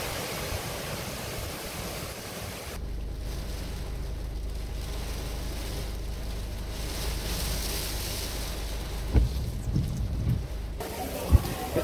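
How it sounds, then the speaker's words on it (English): A heavy rain band from Category 5 Hurricane Dorian sweeps over Marsh Harbour in the Bahamas, a dense steady hiss of rain and wind with a deep rumble, occasional thumps, and no clear talk. "And we have a good rain band sweeping in now."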